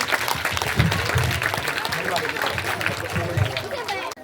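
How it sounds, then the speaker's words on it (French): Students applaud their classmates at a school event, a loud, dense clatter of hands mixed with crowd chatter and voices throughout. "Applaudissez vos camarades."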